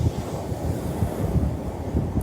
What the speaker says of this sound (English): I hope you can hear the waves.